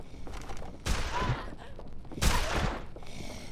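Gunfire in the zombie video game Dead Island comes as two loud, booming shot bursts about a second and a half apart, each trailing off into a rumbling tail over a low, busy game background.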